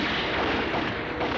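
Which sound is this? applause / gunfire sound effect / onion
gunfire sound effect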